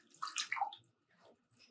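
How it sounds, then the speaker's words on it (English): Water poured into a bowl of tomatoes for homemade tomato sauce, a brief splashing burst that fades, then a softer trickle near the end, quiet and close with no talk. "And add in that water."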